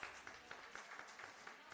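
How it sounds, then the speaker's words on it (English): Crowd at an International Women's Entrepreneurship Day celebration applauds in a continuous, faint wash of clapping, heard from a distance with a few sharper claps standing out at a loose, regular rhythm. "Huge round of applause"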